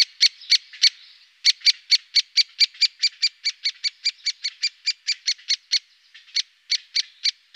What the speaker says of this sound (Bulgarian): Чуваме различни видове птици.